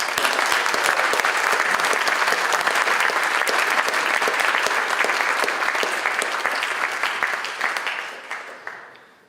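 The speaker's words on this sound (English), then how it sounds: "So I'd ask us to applaud these two scholars." Sustained applause from an academic audience honoring two scholars at a fellows' induction, steady and full for several seconds before fading away at the end.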